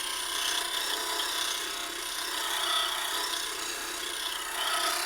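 A skew chisel shaves river sheoak spinning on a wood lathe, giving a steady, close, continuous hissing rasp of cutting that swells and eases slightly without a break, with no talking over it.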